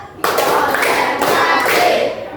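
A classroom group of students claps together on a count, a burst of mixed hand claps and thumps starting abruptly and lasting about two seconds, loud and close.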